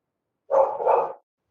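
A dog gives a single short two-part bark, loud and close, against an otherwise silent background.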